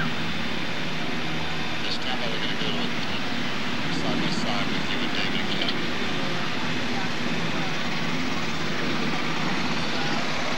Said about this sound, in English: The Marine helicopters are now taxiing here at Stapleton Airport.